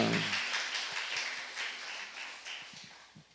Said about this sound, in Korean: 하나님께 영광 박수를 드립니다